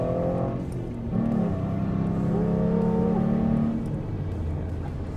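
An Alfa Romeo GTV Italian sports car engine revs loudly up close, its tone climbing and holding before easing back to a steady idle-like drone.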